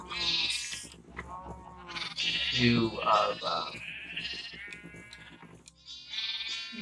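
Sheep in the video game Minecraft bleat repeatedly, several wavering cries in close succession, with a voice talking over and between them.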